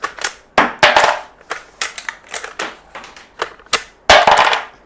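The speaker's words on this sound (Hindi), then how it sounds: "Then you load it and you go like this. आप ऊपर आ जाते हैं, बिल्कुल असली गन जैसी फीलिंग आती है। यू फायर इट टक" Legends Cowboy lever-action CO2 BB air rifle firing and being cycled, a string of sharp close snaps and metallic clacks in an irregular rhythm, loud and without talk.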